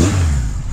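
A 1979 Kawasaki KZ1000 motorcycle, well tuned, idles with a low, steady, close rumble that runs evenly throughout without pops or backfires.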